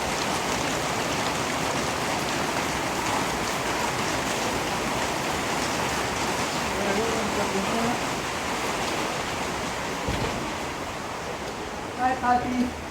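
Steady rain falling outdoors near a jade museum and showroom, a constant broadband hiss throughout with brief faint voices near the end.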